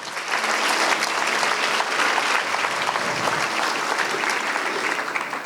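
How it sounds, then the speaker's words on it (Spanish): A church congregation claps together in sustained, enthusiastic applause, a full wash of hands that holds steady throughout. "dele un aplauso a Dios con todo su corazón"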